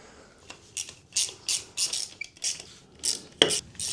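Motorcycle security system bolts tightened with a hand ratchet, a run of about a dozen quick metallic clicking bursts in an uneven rhythm, close and fairly crisp with no talking.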